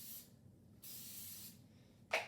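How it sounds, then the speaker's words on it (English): An adhesive spray can sprays onto a foot in short hissing bursts, two longer sprays and a brief final puff, close and crisp with quiet gaps between. "you're going to start with spraying their foot with adhesive spray"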